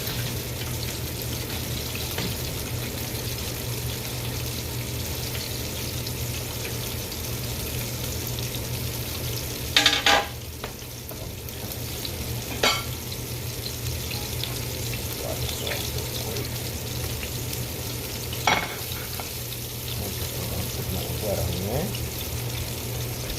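Fish frying in a pan gives a steady background sizzle throughout, broken by a few sharp clatters, with a low constant hum underneath.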